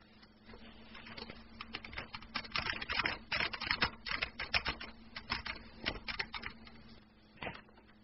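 Fingers tap out commands on a computer keyboard in rapid, irregular bursts of close clicking, fairly quiet over a faint steady hum, ending with a few isolated keystrokes.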